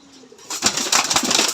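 A tumbler pigeon released at a racer pigeon farm in Ghatail, Tangail, its wings breaking into a burst of rapid, loud flapping after a quiet start, with a low coo underneath.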